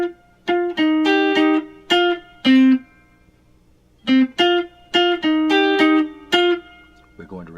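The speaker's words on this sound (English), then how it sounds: "Next, let's learn the saxophone melody." A saxophone melody played on electric guitar with effects, two phrases of short plucked notes separated by a pause, close and clear with no talking.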